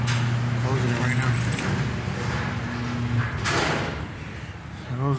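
Garage door closing with a mechanical rattle and sliding rumble in short bursts, close by, with someone talking over it.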